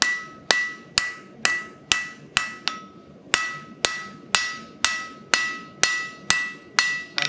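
A blacksmith hammers the edges of hot forged steel on an anvil, delivering sharp, ringing metallic blows in a steady rhythm, about fifteen strikes with one brief pause, loud and close.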